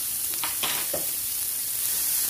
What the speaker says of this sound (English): Just gonna saute this until it's soft